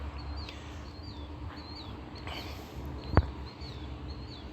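Distant birds give repeated short chirping calls at intervals over a low outdoor background hum, with one sharp knock partway through.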